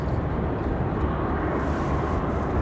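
A Breeze Airways Airbus A220 rolls out at Raleigh-Durham airport, producing a brief, loud, continuous jet rumble with no talking.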